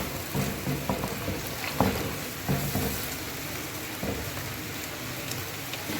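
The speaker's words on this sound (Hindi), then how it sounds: "जब onion, ginger and garlic paste अच्छी तरह से फ्राई हो जाए" Onion, ginger and garlic paste fries in a karahi with a steady, close sizzle and occasional spoon stirs and scrapes, no voices.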